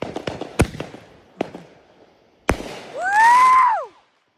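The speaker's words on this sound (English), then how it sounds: "Here goes the mortar." A firework mortar gives a few sharp pops and one loud thump as it launches, then a rising whistle and a crackling burst overhead, heard outdoors at close range with brief voices between the shots.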